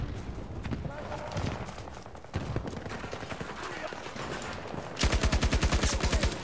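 A new light machine gun in Battlefield 2042 fires a fast, even, loud burst near the end, after scattered distant gunfire and a voice talking through the busy battle noise.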